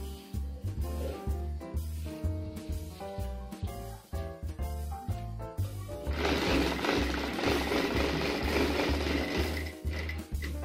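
A sewing machine stitching the seam of a night gown, rapid rhythmic mechanical clatter up close, running in short bursts and then a longer continuous run.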